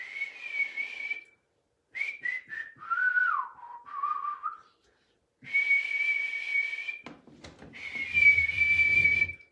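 Someone whistles a tune during an informal music session, with clear melodic phrases broken by short pauses, fairly close and quiet with no talking.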